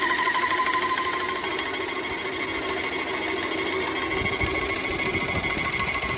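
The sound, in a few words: paint sprayer pump running, spray gun spraying water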